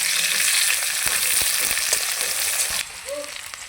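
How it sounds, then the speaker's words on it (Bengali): Chopped onion fries in hot oil with a bright, steady sizzle close up, with occasional stirring clicks, before the hiss drops noticeably quieter near the end. "পেঁয়াজটাকে আমি লাল লাল করে ভেজে নিব।"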